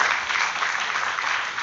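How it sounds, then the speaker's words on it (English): Audience applause fills a hall at a national mental health conference, a steady, dense clapping from a large crowd heard briefly and alone. "Please give them a big round of applause."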